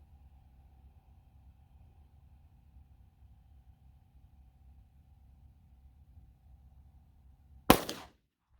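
A single 10mm Federal pistol gunshot, sharp and loud, cracking out near the end after a long stretch of quiet low hum, with a short echo trailing after it.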